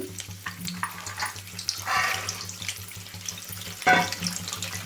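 Dried peas dropped bit by bit into well-heated oil for crispy spiced fried peas, giving a steady bubbling sizzle with brief louder bursts as more go in, over a low hum.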